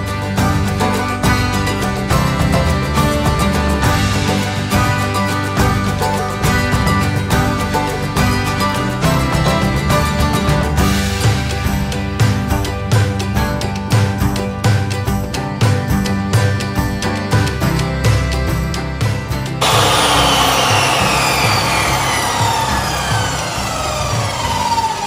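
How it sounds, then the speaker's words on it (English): A table saw cutting a fresh Hawaiian acacia log in half, giving a loud, continuous whining motor drone with harsh cutting noise that runs nearly the whole time, then winds down as the blade spins free near the end. "Alright, so we've got that fresh core log split in two."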